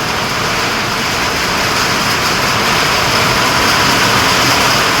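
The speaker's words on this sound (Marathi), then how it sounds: "म्हणजे भयानक मोठा पाऊस आला आहे" Heavy rain pours down near Tulshi dam as a dense, loud and unbroken hiss that holds steady throughout, with no voices.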